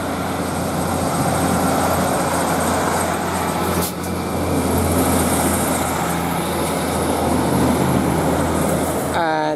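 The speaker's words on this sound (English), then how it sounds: "Now we get this northern set, is now departing 156454, and this is from Darlington to Saltburn." A Northern diesel multiple unit, 156454, pulls out of Thornaby station on a Darlington to Saltburn service, its engine droning loud and steady with a constant low hum before a brief squeal near the end.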